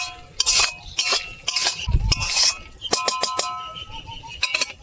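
A spoon clinks and scrapes against a pan while mocha prawn curry finished with ghee is stirred, sharp metallic taps and rattles in uneven bursts, close and fairly loud.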